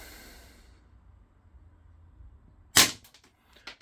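A Schofield 1877 CO2 revolver air pistol fires a pellet that strikes a board behind the target, producing one sharp, loud crack after a quiet stretch, followed by a couple of faint clicks.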